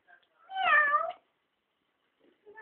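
A single clear cat meow rises and falls, close and fairly quiet, surrounded by near silence with a faint sound at the end.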